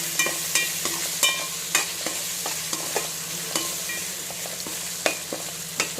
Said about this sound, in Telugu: పెద్ద స్పూను అల్లం వెల్లిపాయ పేస్ట్ వేసేసుకొని మంచి కలిసేటట్టు తిప్పండి.